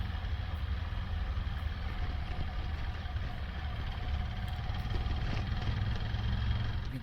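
Steady motorcycle engine drone from a Hero Xpulse and a Bajaj Dominar riding at a steady pace on a forest road, heard continuously with wind rumble and no talking.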